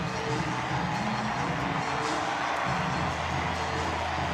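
Crowd noise swells at a baseball stadium during a Padres versus Braves MLB game, a broad, distant roar of many voices holding steady without any single voice standing out.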